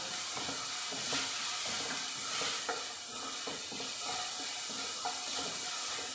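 Chopped onion and small coconut pieces fry steadily in a pan for a roasted beetroot curry, giving a continuous close sizzle with occasional soft stirring scrapes and no voices.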